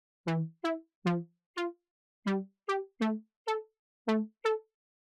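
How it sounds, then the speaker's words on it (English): A future house synth patch with slightly less detune plays ten short, plucky harmonic stabs in an uneven rhythm, close and clean with no talk. "In this case, I will go for the slightly less detuned sound,"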